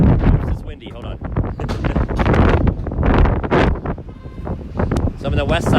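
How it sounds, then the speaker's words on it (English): Gusty wind buffets the microphone in heavy, irregular rumbling bursts on a New York City street at Broadway and 59th Street near Columbus Circle, mixed with faint voices underneath. "This is windy, hold on."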